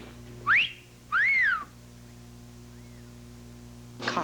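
Whistling in a 1980 TV commercial for a tough razor sold in a pretty case: two clear rising-and-falling whistled notes, fairly loud and alone, then a faint brief third and a short burst near the end.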